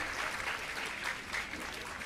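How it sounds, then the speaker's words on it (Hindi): An audience at a Jain monk's question-and-answer discourse in Satna, Madhya Pradesh, claps steadily and continuously, a dense wash of many hands applauding. "एक बार जोर से ताली बजाओ ताकि पता लग जाए महाराज सही बोल रहा है।"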